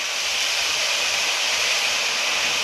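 Water hits a hot pan of fried cumin seeds for jeera rice, throwing up a loud, steady rushing hiss of steam and boiling that fills the whole moment without pause.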